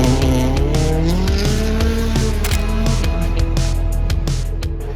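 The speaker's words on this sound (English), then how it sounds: "And the next car is coming." A World Rally Cup car roars past at speed, engine pitch rising and falling through gear changes, loud and close with a sustained mechanical drone.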